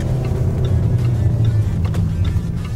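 A car drives along on a short errand, its engine a steady low hum with road noise and faint rattles, close and continuous with no talking.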